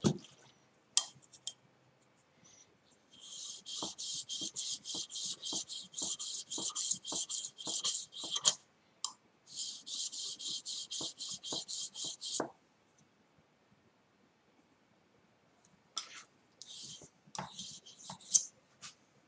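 A hand file stroking across saw teeth to raise a burr, bursts of rapid rasping strokes repeated in long runs, close and crisp, with pauses between runs and a few scattered clicks.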